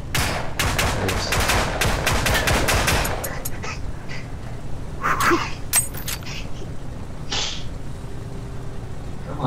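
In the VR game Hover Junkers, heavy automatic gunfire rattles loudly in a dense burst, then breaks into scattered single shots and sharp cracks, with brief talk mixed in.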